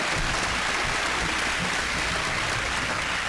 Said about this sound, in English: So let's give them all another round of applause.